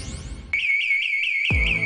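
A security alarm in a radio advertisement for an alarm company blares a loud, sustained electronic siren with a warbling high tone, cutting in abruptly after a short lead-in and continuing to the end.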